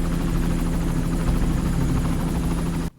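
A medevac helicopter in a TV police drama throbs with a steady, loud rotor chop and low engine drone, continuous for about three seconds before stopping abruptly.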